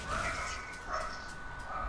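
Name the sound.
small dog barking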